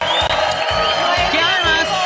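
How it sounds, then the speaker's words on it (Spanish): A TV studio audience cheers and whoops loudly with shouting voices and music, a raucous, continuous roar of excitement. "¡Un fuerte aplauso!"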